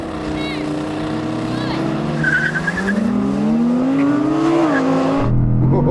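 A BMW M3 and an Audi R8 GT launch side by side in a drag race, engines roaring loudly as revs climb through rising gear pulls with a brief tire squeal, a voice talking excitedly over them.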